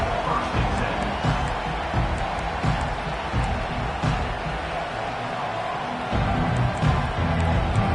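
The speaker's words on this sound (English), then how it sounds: "This crowd bringing an ear-splitting welcome to their visitors." A large football stadium crowd roars continuously in a loud, dense wash of cheering and whoops that swells again near the end.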